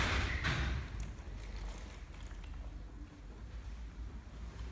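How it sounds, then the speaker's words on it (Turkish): Water pours into an empty container for wallpaper-poster glue mixing, a loud splashing rush at first that settles into a softer, steady trickle. "Suyumuzu boş kabımıza döküyoruz."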